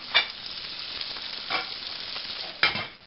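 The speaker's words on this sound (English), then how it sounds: "This is about 1/2 cup of popcorn kernels. We'll add those. Start shaking. They're going to start popping pretty quick." Popcorn kernels and butter heat in a covered pot on a stovetop, giving a steady low sizzle broken by three brief louder bursts of rattling or sputtering, close and moderately loud with no talking.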